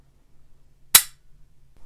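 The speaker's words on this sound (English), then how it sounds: "this is not a very loud reset, but here we go." Single sharp metallic snap of a Bulgarian Makarov pistol's trigger breaking, a lone close click over a quiet low hum.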